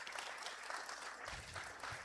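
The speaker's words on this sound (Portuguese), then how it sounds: "Aplauso para ele." A crowd at a family descendants' reunion gives a short, faint round of clapping for a welcomed guest. The clapping is a dense, even patter heard from a distance.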